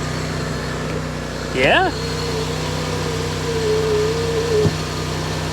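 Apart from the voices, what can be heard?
car exhaust engine running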